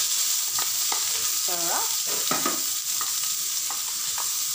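Chopped onion and garlic fry steadily in a pan with a constant sizzle and occasional stirring scrapes, while a voice speaks briefly over it.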